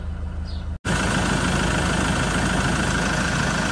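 A Land Rover Defender 90 with a 2.4 TDCi diesel, a 2010 model, idles steadily and close, with a brief dropout at the start before the even, continuous engine rumble resumes.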